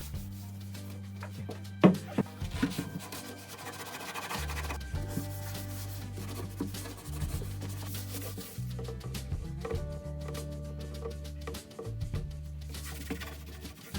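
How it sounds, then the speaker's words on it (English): Steady rasping rub of a power sander on a wooden dresser, droning continuously with brief pauses and shifts in pitch as it moves across the surface. "it was time to do a little sanding"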